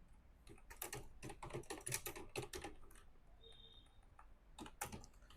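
Typing a name on a computer keyboard into LinkedIn: bursts of quick, close key clicks in uneven runs, pausing midway, then a final short flurry of taps.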